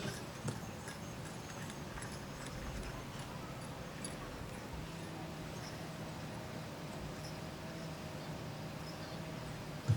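Draft horses walking in tandem pulling a cart in a 4-H fair show ring, faint steady hoof clip-clops with light ticking over a low background rumble.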